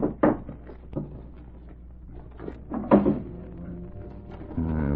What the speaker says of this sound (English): I saw one in the desk drawer.